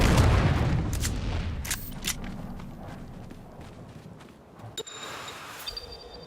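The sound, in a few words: gunfire and grenade explosions in Dune Awakening video game battle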